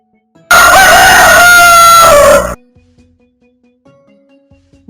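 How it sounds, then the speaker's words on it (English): A rooster crows once in a single loud, drawn-out cock-a-doodle-doo lasting about two seconds, very close and alone, then faint, quiet background sounds follow. "Roosters crow in the morning"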